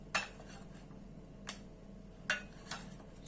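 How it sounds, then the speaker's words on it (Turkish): A utensil clinks against a mixing bowl as flour, about two and a half cups with three eggs, is stirred into lemon cake batter; four sharp, quiet taps are spaced irregularly over a low, steady background hum. "Şimdi bunu karıştırıyorum."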